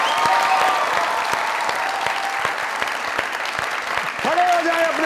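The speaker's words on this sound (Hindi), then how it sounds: "स्टैंडिंग ओवेशन, जोरदार तालियां" A television comedy studio audience rises for a standing ovation, applause rolling dense and strong, and a voice speaks near the end.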